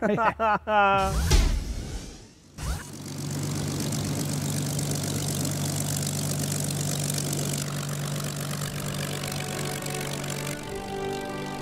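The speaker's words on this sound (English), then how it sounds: "The Yaks are just great planes" A voice speaks briefly, then a Yak warplane's propeller engine coughs to life and settles into a steady, close, rumbling idle that lasts to the end.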